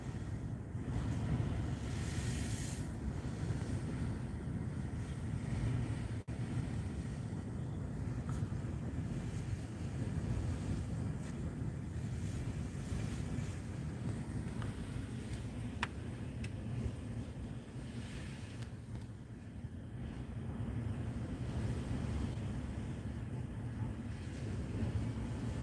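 Lake Huron waves at Tawas Bay washing in steadily with a continuous rushing surf, wind buffeting the microphone throughout.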